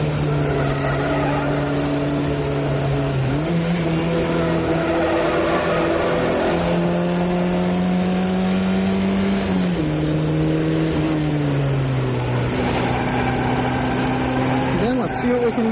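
Race cars lapping a track, engines droning loud and continuous as revs rise and fall through gear changes over the whole stretch.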